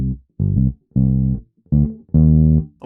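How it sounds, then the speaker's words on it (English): Bass guitar plays a funky groove line, about five clean notes in an uneven, syncopated rhythm, close and alone. "So he creates this bass line or this groove"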